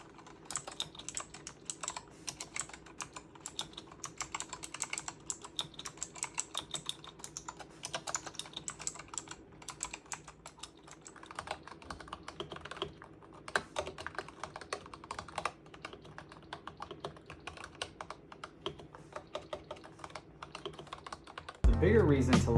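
Steady, rapid typing on a Razer Huntsman V2 Analog keyboard with smooth analog switches, a dense run of soft close keystroke clacks continuing throughout with brief pauses.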